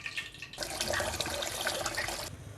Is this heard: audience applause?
no